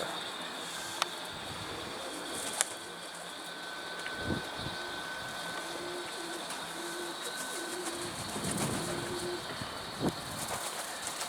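Pigeons coo softly in a repeated rhythmic pattern over a constant low hum, with a few sharp clicks and faint rumbling in the background.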